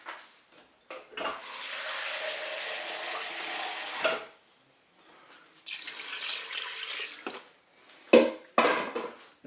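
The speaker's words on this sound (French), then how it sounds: "Je vais mettre tout de suite mon eau pour recouvrir" Water pours steadily from a tap into a Cookeo pot to cover spaghetti, a running gush for about three seconds that stops, then resumes, broken by a couple of brief clatters of utensils or pot handling near the end.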